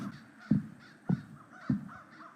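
Crows caw on the Grey Mountain in The Night of the Rabbit video game, three loud harsh caws spaced about half a second apart over a quiet backdrop, with fainter calls in between.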